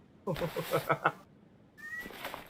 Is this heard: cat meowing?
yes